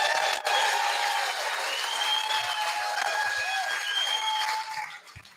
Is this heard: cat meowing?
no